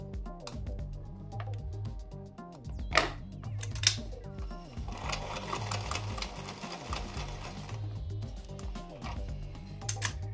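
A sewing machine stitches a fabric face mask in steady mechanical bursts, with a couple of sharper knocks near the start and brief pauses as the fabric is repositioned; close and fairly loud throughout.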